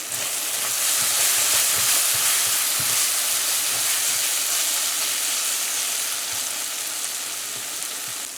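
Steady, dense sizzling of curry paste frying in a hot pot, a continuous bright hiss with faint stirring clatter underneath, fairly close.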